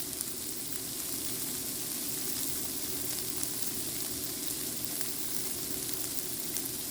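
Burger patties fry in a pan with a steady, close sizzle and crackle. The hiss holds at an even level throughout, with small spatters popping through and no talking.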